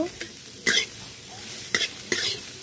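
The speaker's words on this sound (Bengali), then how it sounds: "এরপর আমরা এগুলোকে একসাথে ভেজে নেব" Onion and cabbage tossed together in a pan for tomato and soy sauce chowmein, a few short scraping stir strokes with soft sizzling between them, quiet and close.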